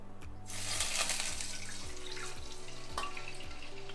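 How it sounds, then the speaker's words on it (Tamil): Water is poured into a pan of hot ghee to make kozhukattai dough, a steady rushing splash that starts after a brief pause and runs on at moderate volume over a low background hum. "இதில் தண்ணி சேர்த்துக்கலாம்."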